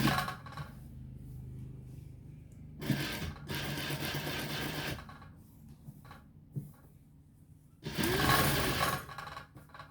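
A sewing machine stitches a decorative neck design on garment fabric in short bursts, each a rapid mechanical whirr of a few seconds separated by quiet pauses, fairly close and moderately loud, with no voices.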